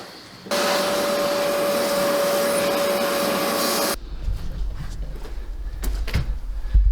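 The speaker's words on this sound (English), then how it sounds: "A slightly bigger vacuum that also takes care of water." A wet and dry workshop vacuum cleaner switches on and roars steadily with a high whine for about three and a half seconds, then cuts off, leaving low rumbling and clunking handling noises.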